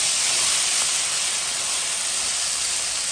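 Steady broadband hiss of steam escaping from a marmite pot while rougail 3 cousins cooks, continuous and fairly loud throughout with no talk.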